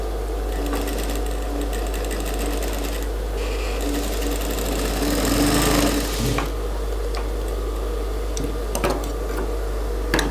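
A sewing machine stitches a curved pocket on a women's suit in one steady, close run, its fast mechanical whirr swelling slightly mid-way before easing into lighter ticks.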